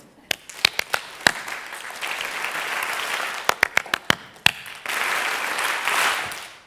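An audience at a talk follows a presenter's clapping pattern, producing bursts of sharp, synchronized claps separated by pauses and stretches of scattered group clapping, loud and close.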